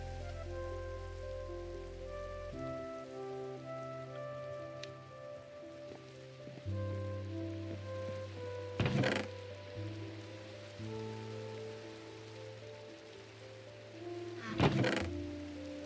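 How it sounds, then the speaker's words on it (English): Minecraft rain patters steadily as heard from inside a building in the video game, a soft continuous hiss with a couple of sharper thumps, beneath low sustained background music. "being inside with Minecraft Rain is crazy comfortable. Like, just listen to the way it sounds."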